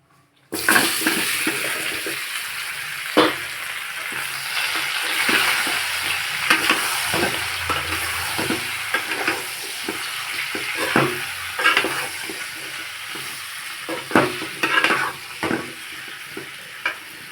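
Oil crackles and hisses steadily in a pan as chopped ambarella fruit fries for pickle while a utensil scrapes and stirs now and then, close by and with no talking.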